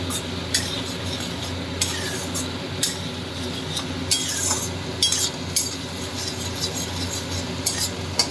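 Spice paste for a mango fish curry stirred in a pan over a low flame, a soft steady sizzle punctuated by irregular scrapes and clinks of a utensil against metal, close up without speech.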